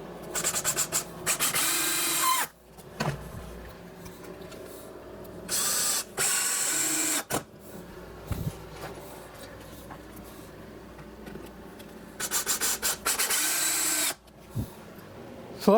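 A power driver sets screws into the stilts of a wooden form for an oil-fired foundry furnace, with several short whirring bursts separated by quiet pauses in a workshop.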